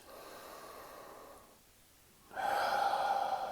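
Slow, deep breaths during a guided mindfulness exercise, with a quieter inhale leading into a louder, sustained exhale that sounds close and airy with no talking.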